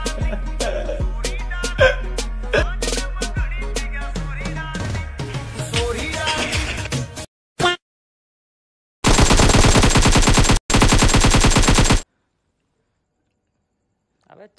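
Rapid automatic gunfire in the PUBG Mobile battle royale game, loud and close, with bursts of shots, a sharp single crack, then a sustained dense volley cut by brief silences.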